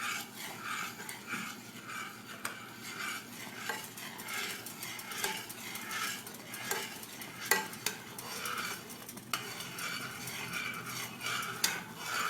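Continuous stirring of a boiling peanut butter no-bake cookie mixture in a pot on the stove, with steady scraping and clinks of the spoon against the pot and a bubbling sizzle underneath, close and moderately loud.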